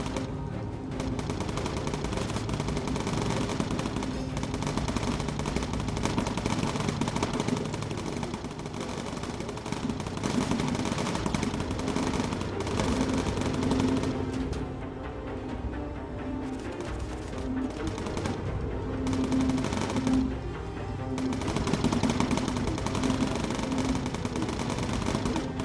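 Bomber Crew video game: turret guns on a bomber fire at attacking fighters in long, dense machine-gun bursts over a constant roar of engines, with no pauses and no talking.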